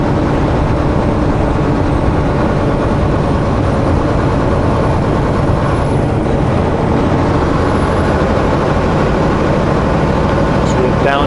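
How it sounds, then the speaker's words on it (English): A truck cruising toward Everett, Washington, downshifts, its loud heavy engine droning steadily from inside the cab throughout. "Downshifted there."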